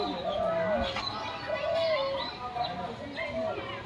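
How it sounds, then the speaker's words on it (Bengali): Dove cooing at a zoo, a soft repeated call mixed with other birds, with people talking nearby throughout. "ওই যেটা ডাকতেছে এটা ঘুঘু"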